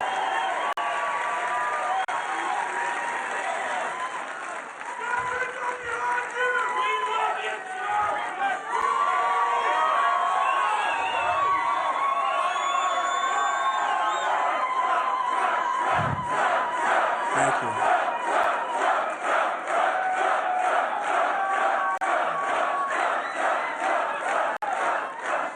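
Loud, sustained cheering and applause from a large crowd of supporters at a Donald Trump rally in Las Vegas, Nevada, with rhythmic clapping and chanting building in the second half, continuing without pause throughout.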